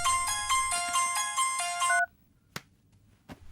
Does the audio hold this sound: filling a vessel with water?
no